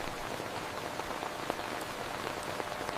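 Steady rain falls on a hard surface, a dense even hiss with scattered sharper drop hits throughout, no voices.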